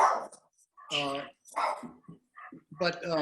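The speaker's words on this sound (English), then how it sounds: "Henry, I think you're fighting with Kathy's dog right now." A dog barking during a video call, several yelping barks picked up over the call audio in an irregular sequence, fairly close and compressed, mixed with speech.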